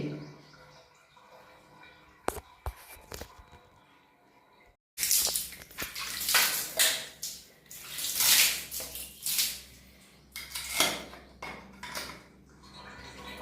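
Water is splashed and poured into a bathtub during a deep bathroom cleaning, starting with a few sharp clinks in near silence and then giving way to loud, close, uneven gushing and slapping bursts.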